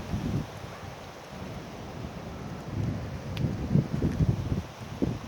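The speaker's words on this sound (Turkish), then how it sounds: "Güzel bir rüzgar esiyor." Steady outdoor wind on Yıldız Technical University's Davutpaşa Campus rumbling and buffeting, with low gusts swelling and easing throughout, fairly soft and without any talking.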